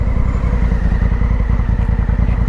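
Honda CRF1000L adventure motorcycle engine running steadily at close range, a loud continuous low rumble with a fast pulsing throb and no talk over it.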